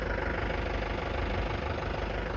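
A Bolero utility vehicle, hitched to a land-leveller carrying four rotavators, idles steadily up close with a low, even engine rumble and no voices over it.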